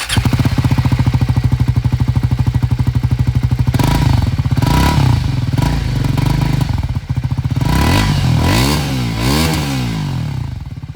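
A scrambler motorcycle with a dual-barrel exhaust idles loudly and close, then is revved repeatedly in sharp bursts, its exhaust note rising and falling with a rough, throbbing rumble.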